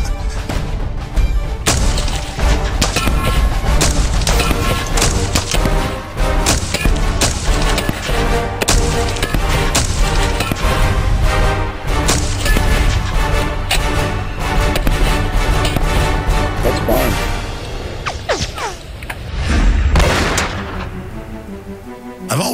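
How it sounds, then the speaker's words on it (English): Rapid gunfire hits a propane tank and a fire extinguisher during an evening gun battle: dense, continuous bursts of loud booming shots for about twenty seconds, with one heavier blast near the end before it cuts off. "Tommy actually shot the fire extinguisher seconds after shooting the propane tank and basically extinguished the fire"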